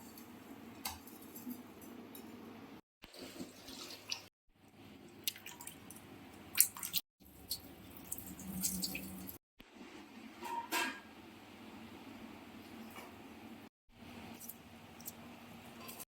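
Dalia, moong dal, biuli dal, masoor dal and gobindobhog rice are washed together in water, giving quiet, intermittent squishes, drips and soft sloshing with short silent breaks between.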